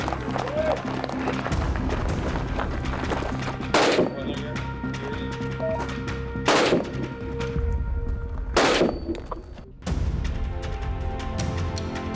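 Rifle shots ring out during a military shooting test, three sharp, loud cracks spaced a few seconds apart over a constant background rumble, with no one talking.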